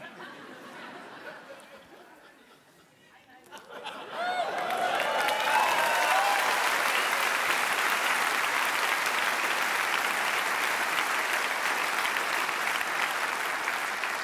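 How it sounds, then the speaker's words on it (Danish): Audience applause at a comedy gala fills the room, starting with scattered claps and surging into loud, sustained clapping with a few cheers that carries on to the end without talk. "I klapper tidligt."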